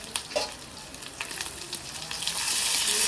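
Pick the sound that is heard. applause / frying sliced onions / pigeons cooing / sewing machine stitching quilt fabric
frying sliced onions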